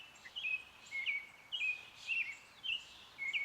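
Outdoor birdsong at a meadow on a warm sunny day: a bird repeats bright, short chirping phrases about every half second, moderately near, over a quiet background with no talking.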